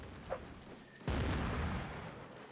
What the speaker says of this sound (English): cannonballs taking down members of the 1st Brigade 95th